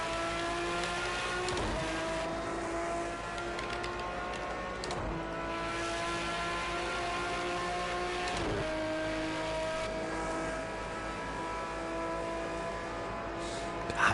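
A race car engine in a Le Mans racing video game drones steadily at high revs, with several sharp dips where the pitch drops briefly on gear shifts before climbing again. The sound stays loud and continuous throughout.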